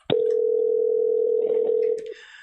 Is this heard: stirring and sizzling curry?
no